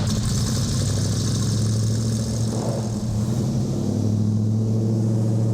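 A 1967 Ford Mustang convertible engine runs steadily, a loud, close, continuous rumble that holds even throughout without revving changes.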